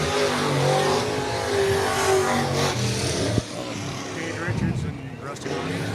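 Sport modified race cars roar around an oval at Raceway Park, engines loud and continuous as they power through the turns, with a race announcer talking over the noise.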